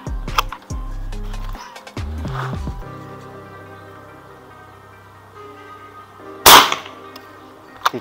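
One sharp, loud Ruger Bigame 5000 PSI PCP air rifle shot at a brick target cracks out late in the clip, preceded by low rumbling handling noise and a quiet background.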